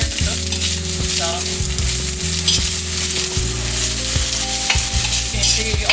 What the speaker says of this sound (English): Now you're going to add a black fungus in, and add the carrot, because those things take a little longer to cook.